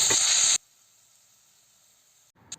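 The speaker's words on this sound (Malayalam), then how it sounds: "എണ്ണ ചൂടാക്കി കഴിയുമ്പോഴത്തേക്കും നമുക്ക് അരിഞ്ഞു വെച്ചിരിക്കുന്ന സവാള ചേർത്ത് കൊടുക്കാം" Chopped onion hits hot coconut oil with a loud, bright hiss that lasts about half a second and then cuts off abruptly, leaving only a faint steady tone.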